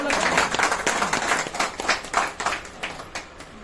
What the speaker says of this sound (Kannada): ಎಲ್ಲರೂ ಚಪ್ಪಾಳೆ